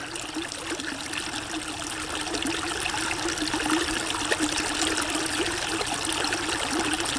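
Water runs through a little creek in a steady, close babbling trickle that grows slightly fuller partway through, with nobody speaking.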